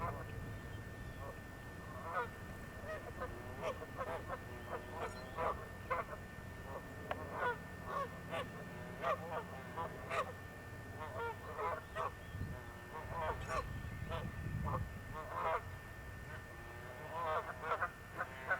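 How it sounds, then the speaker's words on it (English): Canada geese honk repeatedly from some distance outdoors, their calls scattered and overlapping over a low background rumble, with occasional faint talk. "They make a lot of noise, don't they? Those are Canadian honkers."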